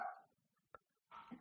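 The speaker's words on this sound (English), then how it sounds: "sorry about the dogs" Dogs bark in short bursts: one bark at the start, a quick yip in the middle and another bark near the end, faint and fairly distant.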